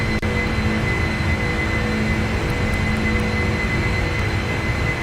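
Airliner jet engines drone steadily after takeoff in a flight simulator game, a constant broadband roar with a faint high whine, heard alone without speech.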